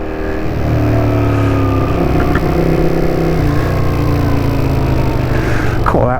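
A 1981 Honda CX500 motorcycle engine runs steadily while riding, holding a constant loud drone with gear-driven pitch shifts and brief wind rush, with no talking.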